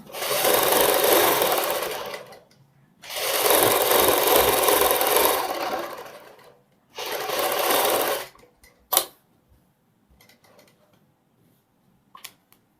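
Sewing machine stitching around a kurti neckline in three long continuous runs separated by short pauses, followed by a sharp click and a few faint handling taps.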